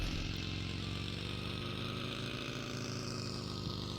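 A vehicle engine in the PUBG Mobile video game, driving toward Pochinki, drones steadily and loudly throughout with a rough, buzzing motor tone.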